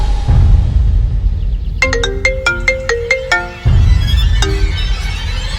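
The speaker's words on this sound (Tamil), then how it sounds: "நான் இப்பவே அர்ஜுனுக்கு ஃபோன் பண்ணி சொல்ல போறேன்." A mobile phone ringtone plays a short, bright melody of about a dozen chiming notes in a Tamil TV drama scene, loud and close, framed by a low background rumble.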